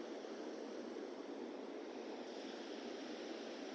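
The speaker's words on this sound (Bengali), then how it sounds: "পানির আওয়াজটা এত সুন্দর লাগছে এবং পানিটা পড়ছে" Water pouring over a large rubber dam beside a bridge, falling like a fountain from pipes, makes a steady, dense roar of rushing water throughout, loud and constant, with no voices.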